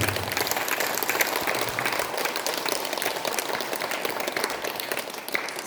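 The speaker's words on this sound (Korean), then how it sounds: "큰 찬탄의 박수 부탁드리겠습니다" Sustained applause from an audience after a Buddhist dharma lecture, a steady dense clapping that fills the whole stretch at even loudness with no voices over it.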